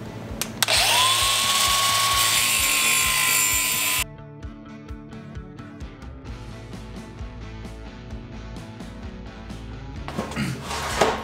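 A grinder cuts stainless steel on a car build: a loud, steady high whine for about four seconds, then stops, followed by clanks and shop handling noises and a brief burst of grinding near the end.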